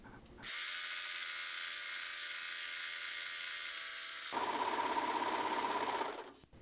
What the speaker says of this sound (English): Serge the seam allowances together, or enclose them however you like.